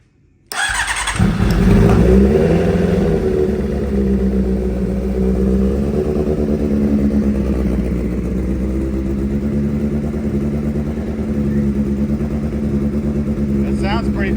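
An engine with its old exhaust removed fires up and revs, a loud, raw roar that holds steady and fairly close for the rest of the clip as someone talks over it.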